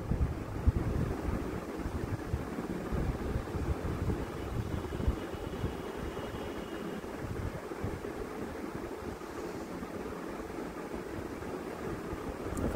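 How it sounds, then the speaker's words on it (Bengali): Chhana muitha, cottage-cheese dumplings, fry in oil in a pan over a low gas flame, giving a steady, even hiss of sizzling that carries on without a break. "এবার মুইঠাগুলো ভেজে নেব।"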